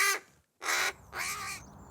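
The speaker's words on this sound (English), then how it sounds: "In Aberdeen, Karen Hoggs rescued a crow that had become trapped up a chimney." A crow rescued from a chimney in Aberdeen gives three harsh, close caws, the first short, then two longer squawks separated by brief pauses.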